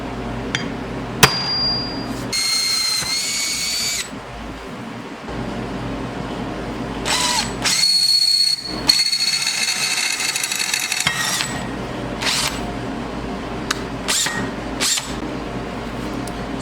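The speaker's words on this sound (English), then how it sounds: "So let's get to drilling this out." Bursts of drilling with a 1-inch hole saw, several separate runs of grinding, whirring noise broken by pauses and a few sharp knocks.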